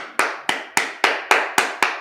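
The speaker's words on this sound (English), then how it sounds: "Clap it up." Seven sharp, close hand claps land in an even, brisk rhythm at a history class lecture, with no talk between them.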